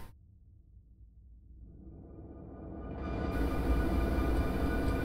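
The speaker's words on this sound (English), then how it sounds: "It looks like a manifest train." A manifest freight train rolls along in the Run8 train simulator, its low rumble swelling steadily from faint to a loud, sustained roar full of rail and wheel noise.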